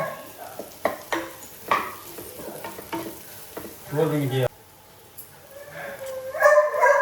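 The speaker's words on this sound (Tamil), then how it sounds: "வெங்காயம் வதங்கிட்டு இருக்கு. வேக வச்சு கட் பண்ணி வச்சுருக்க உருளைக்கிழங்கு போட்டுக்கலாம்." Onions and boiled, cut potatoes sautéing in a pan, a close sizzle with repeated scraping stirs of a spatula, growing busier toward the end, with no talk over it.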